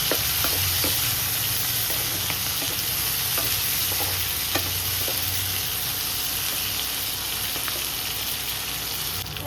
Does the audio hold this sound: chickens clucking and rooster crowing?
no